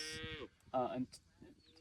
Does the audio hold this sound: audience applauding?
no